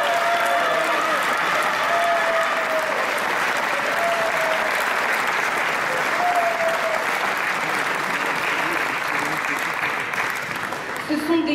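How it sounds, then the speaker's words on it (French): Steady, dense audience applause at a chess tournament closing ceremony in Nîmes, 2014, a continuous wash of clapping from a large crowd lasting throughout and tapering slightly at the end, with faint voices beneath. "j'espère que vous les applaudirez encore"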